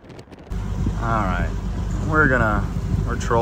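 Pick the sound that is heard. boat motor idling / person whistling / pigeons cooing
boat motor idling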